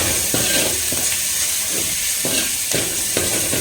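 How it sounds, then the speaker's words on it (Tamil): Sambar tempering sizzles loudly in a hot pan, a steady frying hiss with bursts of crackle and periodic stirring scrapes, close and continuous with no talking. "இந்த தாளிப்பு மட்டும் பார்த்தீங்கன்னா அவ்வளோ பயங்கரமான தாளிப்பு இது"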